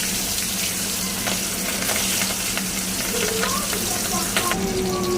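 Fish and green chillies sizzle steadily in hot oil, with a constant frying hiss and occasional faint clinks from stirring.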